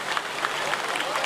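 A crowd claps at an event, a dense, even wash of many hands that holds steady throughout, with the sound of voices blending in under the clapping.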